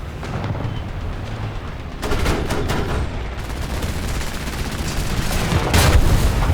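Tank main gun shots in War Thunder, played as a Panzer II TD, boom out as heavy blasts over a steady bed of engine rumble and battle noise, with a couple of sharp reports and a louder burst near the end.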